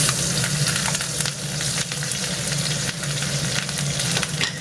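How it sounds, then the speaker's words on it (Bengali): Chopped green chilies frying in a pan give a steady, close, loud sizzle with scattered crackles and occasional scraping stirs, and no talking. "এবার ওর মধ্যে দিয়ে দেবো কুচো করে রাখা কাঁচা লঙ্কাগুলো"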